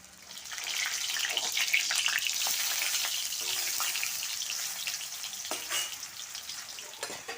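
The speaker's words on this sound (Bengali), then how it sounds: "এখন পুরভরা কারকল ভেজে নেব।" Stuffed spiny gourd (kakrol) frying in oil in a pan, a continuous crackling sizzle with scattered pops and spatters, moderately close and steady throughout.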